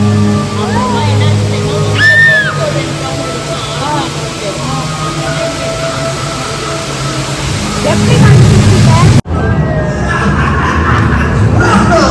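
Water splashes and rushes around a theme park water ride as the boat climbs and drops, with a loud surge of spray toward the end and people talking over the noise.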